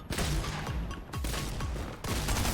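Loud, rapid bursts of gunfire from a shooting video game crackle almost continuously, broken by two brief pauses.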